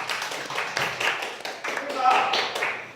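Scattered clapping from a church lecture audience, uneven bursts of hand claps mixed with murmuring voices, fairly close and moderately loud.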